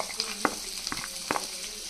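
Garlic and beans frying in a pan, a steady close sizzle with a few sharp clicks and stirring knocks from a utensil, no talk.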